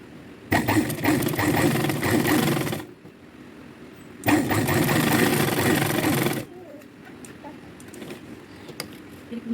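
Sewing machine stitching a tiffin lunch-box bag, running in two steady bursts of about two seconds each, loud and close, with a quieter pause between and faint room noise after.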